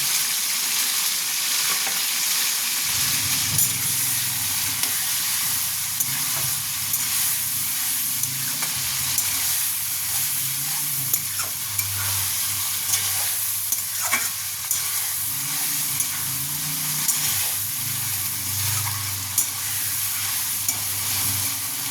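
Ginger, green chili and garlic paste frying in hot oil for a chicken and bottle gourd curry, a loud continuous sizzle that begins abruptly and keeps going, broken by repeated stirring scrapes.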